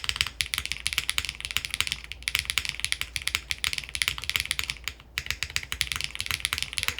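Fast, close typing on an Eave65 mechanical keyboard fitted with SWG keycaps produces dense, crisp clacks in a quick irregular rhythm, with a brief pause near the end and no talking.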